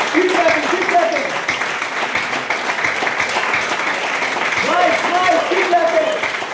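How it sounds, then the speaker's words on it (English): An audience at a Lions Clubs International talk claps steadily and continuously throughout, a dense, even wash of many hands with no pause, while faint voices sit beneath it. "Nice, keep clapping."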